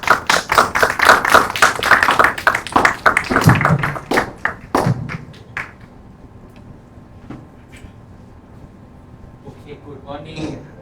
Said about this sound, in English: Guys, clap your hands.